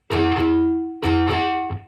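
Distorted electric guitar chords struck in quick down-up pairs with fretting fingers resting on the strings, each hit percussive at the attack and then ringing briefly, loud and close.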